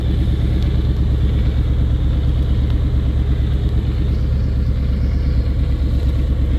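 A 2003 Ford Mustang Mach 1 V8 warming up, a steady close idle with a deep low rumble and even pulsing that runs throughout without a break.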